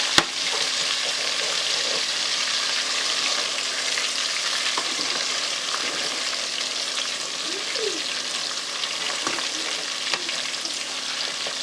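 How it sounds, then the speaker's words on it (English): Onions sizzle steadily in hot oil for an Ital okra stew, a dense, even crackle that stays close and fairly loud throughout, with a few faint scrapes and no talking. "You give it a good fry."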